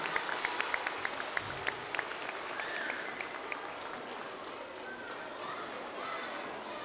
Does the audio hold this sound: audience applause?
yes